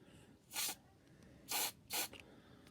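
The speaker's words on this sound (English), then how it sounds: "you've got the radio on its side and then spraying" Three short hissing bursts of aerosol spray cleaner into a radio, one then a pause, then two close together, fairly quiet and near.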